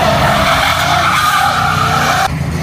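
A Ford three-valve V8 car skids and revs at a Houston sideshow car meet, a loud close continuous tire squeal over roaring engine that cuts off sharply near the end.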